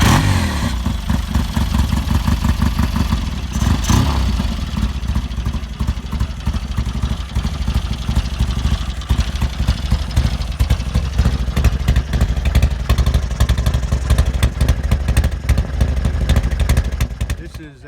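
A 1983 Honda CL650 Interstate motorcycle engine running loud and close at a vintage show, a steady throbbing drone that briefly changes around the upshift, with a voice faintly under the engine noise.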